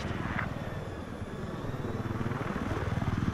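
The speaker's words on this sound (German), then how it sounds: "Ich hab Sichtkontakt zu einem feindlichen Helikopter." Enemy helicopter in the video game Battlefield 4, a continuous pulsing rotor thrum that grows more rhythmic and slightly louder toward the end.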